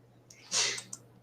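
A single short, breathy sneeze bursts out close by against a quiet background with a low steady hum, followed by a small click.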